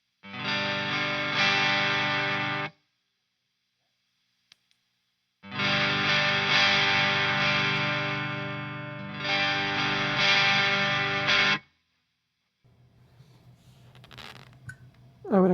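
Distorted electric guitar played through a super distortion pedal: two long sustained chord passages with a pause between them and a brief quieter stretch with handling noise at the end.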